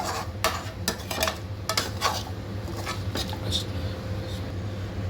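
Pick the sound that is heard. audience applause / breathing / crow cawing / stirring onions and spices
stirring onions and spices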